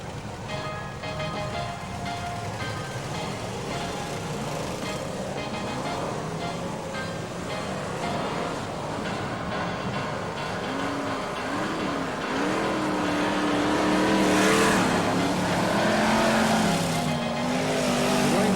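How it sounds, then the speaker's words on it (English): BriSCA Formula 1 stock cars pull away for the race start at Kings Lynn in 1995, a loud continuous roar of many engines revving and rising in pitch, with tire noise and an open-air crowd ambience. "So then the cars move to their half-lap position."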